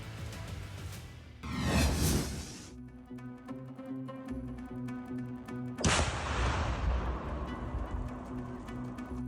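Heavy booms and blasts from drone strikes on an oil refinery in Russia, one early and another later, with a rushing roar and crackling rumble between, loud and close, no talking.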